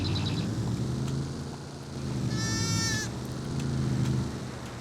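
Sheep in the video game Farming Simulator 22 bleat over a low rumbling engine drone, with one short high bleat near the start and a longer, clearer bleat in the middle.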